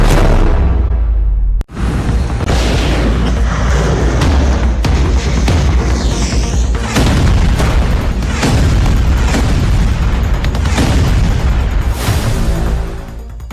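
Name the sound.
explosions from attack on Kharg Island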